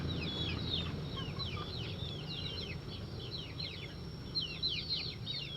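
Native Indonesian village chickens, part of a small flock of about fifty, cluck and chatter steadily at a moderate distance over a low background hum. No one speaks.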